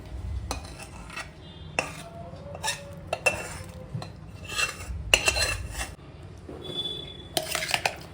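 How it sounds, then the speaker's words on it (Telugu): Fried tempering being stirred into cooked rice for temple-style tamarind pulihora, with a spoon scraping and clinking against the vessel in irregular bursts, close and moderately loud, with no talking. "ఇప్పుడు మనం వేయించుకున్న పోపుని అన్నంలో వేసి కలుపుకోవాలి"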